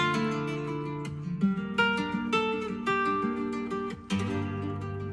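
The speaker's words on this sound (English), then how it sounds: "Traditional flamenco with passionate vocals and expressive Andalusian guitar." An AI-generated flamenco song carries passionate, sustained vocal lines over expressive Andalusian guitar, with strummed accents and shifting melodic notes, full and close.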